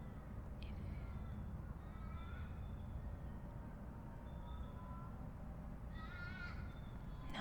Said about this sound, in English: that's an Australian crow.